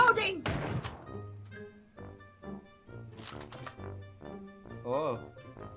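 A weapon reload in the game Call of Duty Mobile: a run of hollow mechanical thunks and clicks at moderate level, with bursts of voice in between.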